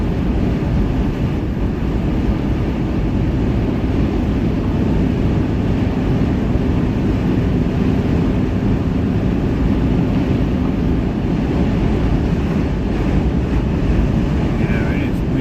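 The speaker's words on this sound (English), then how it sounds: "it is windier and shit out there" Strong wind buffets the microphone outdoors with a constant heavy roar and rumble that never lets up.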